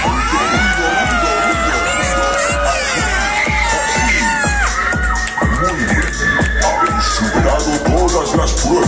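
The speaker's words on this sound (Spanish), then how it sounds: "vamos a hacer todo el ruido que podamos" Riders on a Tren de la Bruixa fairground ride at a Barcelona fair shout, cheer and scream together over a pounding rhythmic beat and loud music, a dense, close, continuous din of voices.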